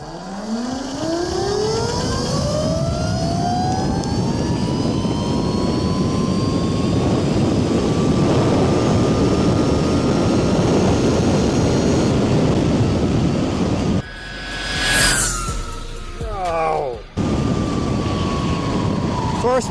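A Yozma IN10 electric motorbike, a 25kW build run at 900 phase amps, accelerates hard with a loud, steady rising electric whine that climbs in pitch for about fourteen seconds, then briefly drops away before settling again.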